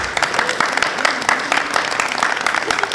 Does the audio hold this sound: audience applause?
yes